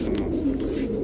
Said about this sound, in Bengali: সবুজ গোলা চড়া চোখের একটা নর কবুতর, পুরান জাতের কবুতর।